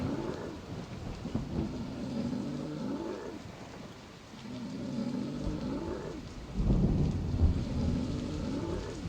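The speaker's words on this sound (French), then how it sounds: "Il pleut bien, on l'entend." Steady rain pours down with deep rolling thunder swelling and fading several times, growing louder toward the end, no voices, in the video game Teddy Freddy.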